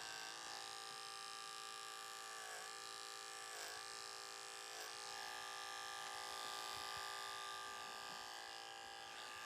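Electric hair clipper cutting short hair in a barbershop: a steady high buzzing hum running throughout, faint and even, with slight changes in tone as it moves through the hair.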